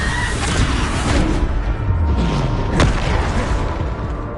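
A Bombarda spell explosion from the video game Hogwarts Legacy, a loud booming blast with a sharp crack, set in dense, continuous in-game combat noise.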